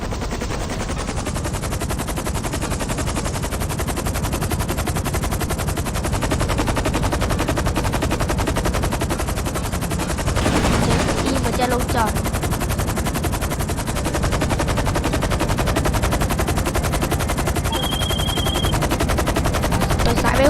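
Rapid aircraft machine-gun fire in GTA Online rattles almost nonstop, loud and dense bursts layered over a constant roar, continuing for the whole stretch with brief shifts in intensity.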